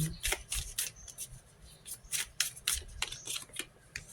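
Tarot cards being shuffled by hand, a series of quick papery riffles and slaps in uneven bursts, close and moderately loud with no clear speech.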